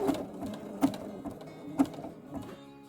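Sewing machine zigzag stitching, 2.5 width and zero length, bar-tacking a pocket corner on linen pants made from a tablecloth, a steady close mechanical whir with a few sharp periodic clunks of the needle.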